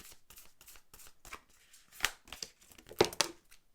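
Tarot cards being shuffled by hand before another card is drawn, a soft run of riffling and flicking with a few sharper snaps near the end, close and fairly quiet, with no talking.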